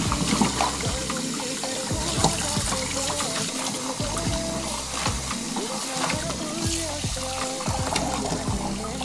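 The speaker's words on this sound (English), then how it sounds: "You need to rinse the salted chonggakmu at least 3 times." Tap water runs steadily over salted chonggakmu radishes rinsed in a kitchen sink for kimchi, a close, loud, continuous splashing stream with irregular clatters as the radishes are handled.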